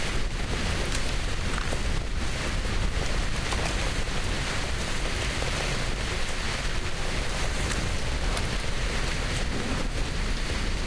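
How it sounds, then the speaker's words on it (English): Steady, dense rainfall in the video game Stalker Clear Sky patters continuously across the whole stretch, a broad hiss with scattered droplet ticks and no voices. "Is it only raining right here?"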